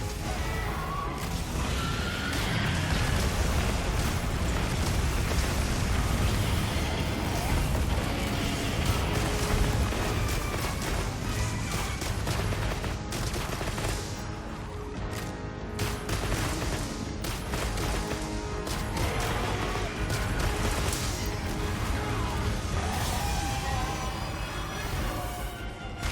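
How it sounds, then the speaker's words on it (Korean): Dense, continuous crashing and bursting blasts as crystals explode in a chain reaction in Monster Hunter Wilds, layered explosions and shattering rolling on without pause, loud and busy throughout. "결정을 하나를 깨주시면 연쇄적으로 폭발하여서 교시에 있는 결정 근처에 있는 결정들이 터지면서"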